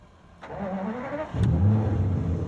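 An Aston Martin DB9 Volante engine cranks over briefly, then catches and fires into a loud, steady running note, close by with no talking over it.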